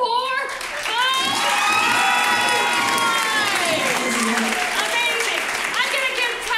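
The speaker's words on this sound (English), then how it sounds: "So clap for one of them" An audience at an improv comedy show claps and cheers loudly, with steady applause under excited shouts and high children's voices, a full, close crowd roar that holds throughout.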